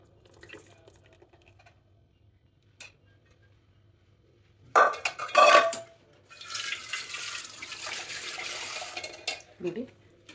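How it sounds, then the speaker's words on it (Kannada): Boiled jaggery syrup is poured and strained from one pot into another in a home kitchen: a brief metallic clatter of vessels, then a sustained liquid pour and splash lasting several seconds, fairly close, ending with a small clink. "ಬೆಲ್ಲನ ಶೋಧಿಸೋಣ."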